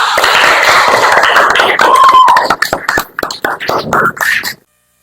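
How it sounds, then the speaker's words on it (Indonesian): A classroom of students claps together, dense applause that thins into scattered separate claps before stopping abruptly, heard close and fairly loud. "Kita kasih aplaus dulu, tepuk tangan semuanya"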